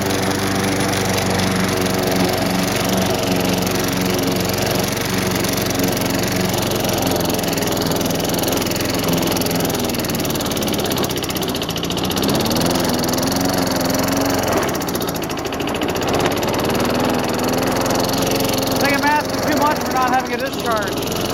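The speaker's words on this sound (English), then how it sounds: "This motor has not ran in a long time, and as it heats up, there's crud and debris burning off of it." An old lawn mower engine runs after a carburetor cleaning, a continuous loud buzzing drone with a steady pitch and some rough, uneven patches, close by for the whole stretch.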